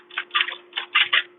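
Keys pressed on the keyboard of a vintage Linotype typesetting machine make about six close, soft clacks in an uneven quick sequence, over a faint steady hum.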